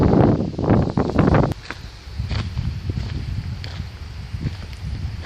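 Strong gusty wind outdoors, buffeting the microphone with a heavy, rough rumble that is loudest at first, then settles into a steadier, lower roar. No one speaks.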